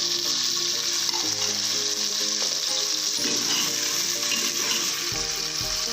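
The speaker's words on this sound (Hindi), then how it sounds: "तो इसको लाइट सुनहरा कलर आने तक इसको फ्राई करेंगे" Onion and garlic frying in hot oil in a pan for a home dal chawal recipe, giving a steady, close sizzle throughout with faint stirring and no talking.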